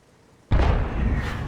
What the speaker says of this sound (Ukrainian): Починає артилерія працювати